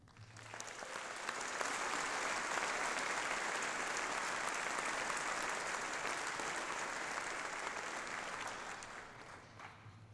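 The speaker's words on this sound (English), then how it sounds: "ask once again that you join me in applauding them" Sustained applause from a large audience at a university graduation ceremony, a dense wash of clapping that builds quickly, holds steady for several seconds and then fades slightly.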